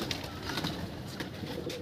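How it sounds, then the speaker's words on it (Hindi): Soft, low cooing from an old pigeon in a short murmuring burst, faint against quiet outdoor background noise. "काफी बुढ़ा कबूतर है"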